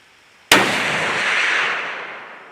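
A single loud, sharp blast from a Remington Ultimate muzzleloader rifle, with a sudden crack followed by a long rolling boom that slowly decays over two seconds outdoors.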